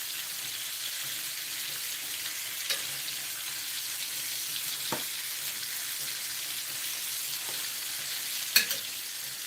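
Pork chops fry in a pan with a steady, moderate sizzle, punctuated by a few sharp knocks from turning or stirring, heard close with no talk.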